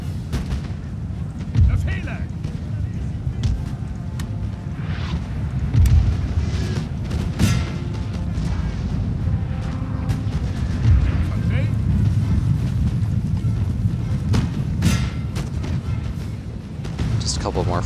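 Musket volley fire rolls through a forest in a Napoleonic-era battle game, repeated crackling volleys and distant booms layered into a steady loud battle din, with a narrator talking over it.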